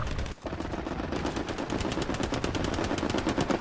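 Automatic gunfire in the World War II shooter Hell Let Loose, with an MP40 firing nearby: rapid, continuous bursts of shots rattle steadily for several seconds, loud and close, with no talk.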